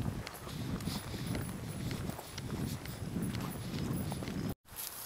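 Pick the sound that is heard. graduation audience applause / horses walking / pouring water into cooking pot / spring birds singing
horses walking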